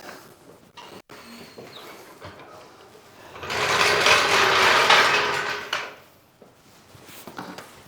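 A jack lowering a Tesla Model 3 Highland gives a sustained mechanical whirring, ratcheting sound for about two seconds, with scattered clicks and knocks before and after.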